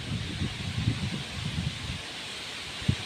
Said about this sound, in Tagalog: Ang lakas po ng hangin, kaya mabagal.